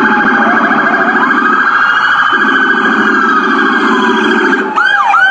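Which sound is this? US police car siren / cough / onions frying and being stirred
US police car siren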